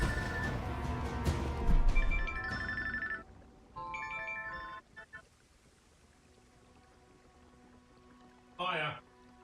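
A mobile phone ringtone rings over a video game session, a melodic tonal pattern repeating in bursts across the clip with a short bright chirp near the end, mostly alone with no talk.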